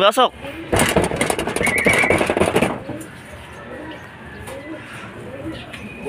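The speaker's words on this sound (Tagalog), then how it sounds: "Ito mga kalapatids, may pang 5 ibon na tayo sa ARPCI." Racing pigeons arriving at a loft after a fun race: loud flapping wing beats and fluttering for about two seconds near the start, with people talking over it, then a quieter stretch of ambient outdoor noise.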